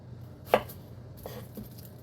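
Knife chopping small white onions and garlic on a cutting board, a couple of sharp close chops separated by a pause, then quieter kitchen ambience.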